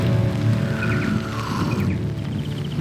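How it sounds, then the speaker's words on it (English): Cold morning rain comes down in the Australian alpine high country of Victoria, a loud, close, continuous patter and hiss with no voices. "cold and raining this morning"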